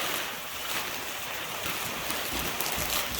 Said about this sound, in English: So the water is boiling now.